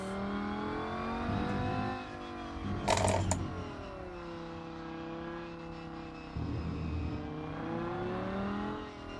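A race car in the Rennsport racing game revs its engine steadily and loudly, the pitch rising and falling through gear changes, with a brief harsh burst near the three-second mark before settling back into a sustained drone.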